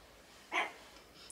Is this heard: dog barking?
yes